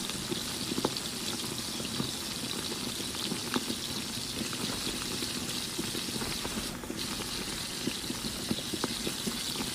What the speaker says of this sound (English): Sauté for 1 minute.